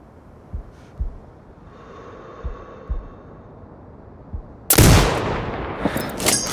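Sniper rifle shots in the video game Sniper Ghost Warrior Contracts 2: a few soft muffled thumps, then one sudden loud blast with a long ringing, roaring tail that stays heavy to the end.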